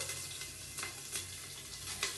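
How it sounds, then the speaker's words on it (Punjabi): Ginger fries with a steady sizzle in a hot pan, with faint scraping and stirring sounds scattered through it. "ਥੋੜਾ ਜਿਹਾ ਟਾਈਮ ਆਪਾਂ ਅਦਰਕ ਨੂੰ ਭੁੰਨ ਕੇ"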